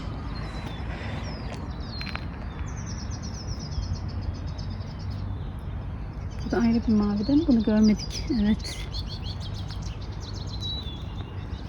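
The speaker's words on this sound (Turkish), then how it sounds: "Kuş sesleri zaten harika." Birds chirp and twitter in a spring garden, with high trills and insect buzz, while two people talk briefly in the middle.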